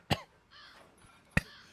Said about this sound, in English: Plus with these coughs coming out of nowhere, I don't even have time to do an emergency mute.